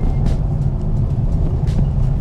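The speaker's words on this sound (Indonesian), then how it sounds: "kita tancap gas sedikit" A 2024 Suzuki Ertiga Cruise Hybrid MPV accelerates under throttle, heard from inside the cabin as a steady low engine and road drone, loud and continuous with no talk over it.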